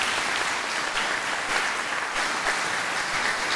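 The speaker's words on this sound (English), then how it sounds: "if you could hold your applause till the end of the list" Audience applause at a graduation ceremony during scholarship and bursary announcements, steady dense clapping throughout, moderately loud and continuous with no voice over it.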